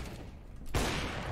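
A single sharp gunshot in the video game CS GO cracks out loud and close after a quieter stretch, leaving a brief ringing tail behind it.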